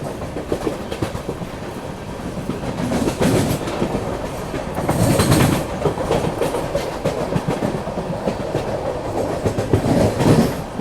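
A passenger train runs along an Indian railway route near Secunderabad, its wheels giving a steady rumbling clatter over the rails, loud and continuous with rising surges of rattle throughout.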